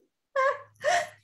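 A close, sharp two-part sneeze: a quick breathy intake followed by a loud explosive burst, alone in an otherwise quiet room.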